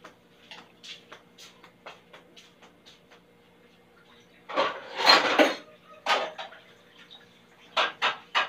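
Dishes being washed in a kitchen: scattered clinks and knocks of plates and utensils, then louder bursts of clattering and rinsing, close by, with quiet gaps between.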